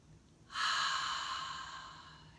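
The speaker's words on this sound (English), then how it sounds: "Another one is called Ujjayi breathing" Slow, soft Ujjayi ocean breath drawn through a narrowed throat with the mouth closed, one sustained hissing exhale rising suddenly and fading gently, close and quiet.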